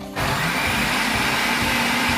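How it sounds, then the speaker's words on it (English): A blender grinds a full packet of Oreo biscuits, its motor starting abruptly and then whirring in a steady, dense roar with no pauses. "put the full packet of Oreos into the blender and blend them all up"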